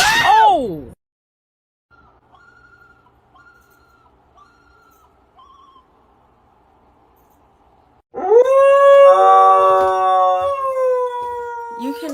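Dog howling loud and close in two bursts, a short rising one at the start and a long wavering howl after a quiet stretch, with faint noises in between.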